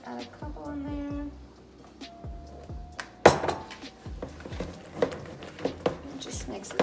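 A spoon stirs blueberries into pancake batter in a bowl, making soft wet scrapes and light clinks against the dish, with a few sharper knocks, under a person talking nearby.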